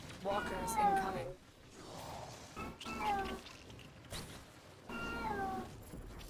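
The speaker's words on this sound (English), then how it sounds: "Sorry, that's my cat. She's in heat." A female cat in heat gives loud, drawn-out yowling meows in three separate bursts, each one rising and wavering, with quiet gaps between them and no talking in between.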